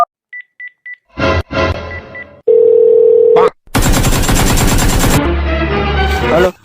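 Telephone dialing tones: a few short, evenly spaced beeps, followed by louder keypad tones, a sustained steady tone, and then a burst of harsh, loud sound.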